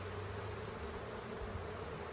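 Honey bees buzz as a steady, continuous drone at an overwintered hive being smoked down during an inspection, with no talk.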